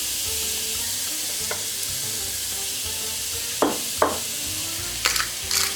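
Onions and minced garlic sizzle in a pan for a frittata, a steady even hiss of frying with a few sharp clinks and scrapes of a utensil near the end, no voices.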